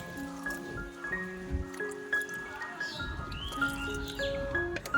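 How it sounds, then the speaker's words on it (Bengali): Water poured onto potted plants during household chores, giving soft dripping and pattering splashes with a wet, irregular texture alongside faint tonal background sounds. "চলো সবগুলো গাছে এখন ভালো করে জল দিয়ে দিই"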